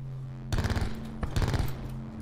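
Two quick bursts of Spitfire machine-gun fire in a video game, each a rapid rattling run of shots lasting under a second, loud and close over a low steady hum.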